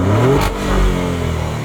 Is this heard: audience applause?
no